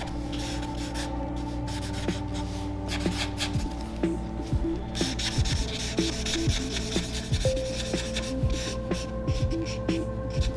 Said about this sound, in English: we're gonna wanna add some shading along the bottoms of the wings here